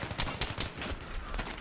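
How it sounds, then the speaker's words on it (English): Battlefield 3 gunfire: a quick run of evenly spaced, punchy shots close by, followed by a denser, noisy rattle that carries on to the end. "I was just shooting the guy"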